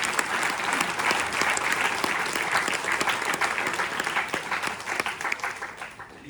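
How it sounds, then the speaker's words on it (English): An audience at a Sathya Sai Baba birthday celebration talk applauds warmly, dense continuous clapping that holds steady for several seconds before tapering off near the end. "One round of applause."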